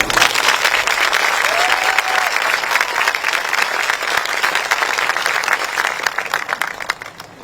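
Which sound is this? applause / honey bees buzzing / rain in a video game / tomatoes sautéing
applause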